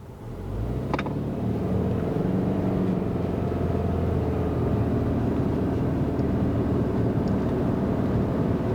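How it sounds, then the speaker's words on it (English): A 2024 Subaru Ascent with a CVT accelerates at roughly 40 to 50 percent throttle, heard from inside as a steady, even engine and road rumble that holds nearly constant without distinct gear shifts. "Let's just try that acceleration a second time, this time heavier on the throttle."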